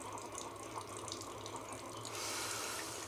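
A Keurig K-Elite coffee maker on its strong brew setting runs a steady, quiet stream of hot water into a cup, the pour growing slightly louder and brighter near the end.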